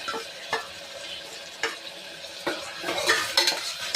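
Onion, ginger and garlic paste frying in oil in a pan, with a soft steady sizzle under repeated sharp clinks and scrapes of a spoon stirring, close and fairly quiet.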